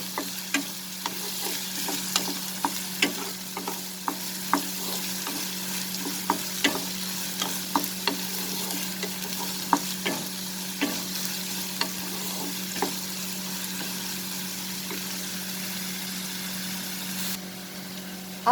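Green chilies saute in a pan with a constant, moderately loud sizzle under a steady low hum, while light rhythmic taps of a spatula recur throughout.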